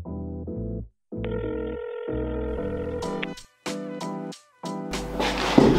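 Telephone tones during a round of cold calling: repeated electronic ring and dial tones in bursts with short silent gaps, loud and close, ending in a noisier burst.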